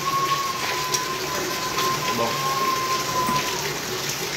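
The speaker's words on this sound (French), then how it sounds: "Il pleut" Rain falls steadily as a soft broadband hiss, with a faint steady tone running through and a brief spoken word near the end.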